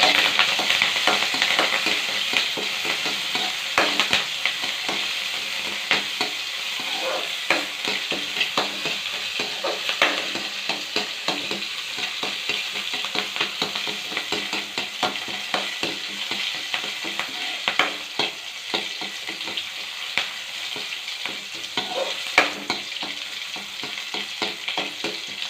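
Green chillies frying in hot oil with spluttered mustard seeds, a continuous bright sizzle broken by frequent sharp crackles and pops, close and steady without talk.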